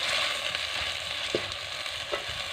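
Crushed ginger, garlic and green chili sauté in a hot pan, giving a steady, close frying sizzle with a couple of brief stirring clinks over the top.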